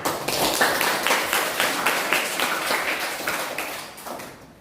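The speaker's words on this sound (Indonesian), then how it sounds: "tepuk tangan untuk teman kalian" A classroom of students claps for a classmate, with a few seconds of fairly loud, uneven hand clapping that fades toward the end.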